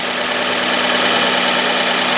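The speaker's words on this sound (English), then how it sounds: "So as you can see, the engine runs very smoothly." A Fiat 124 Spider Prima Edizione engine idles smoothly and steadily, a loud, close, continuous hum with no talk over it.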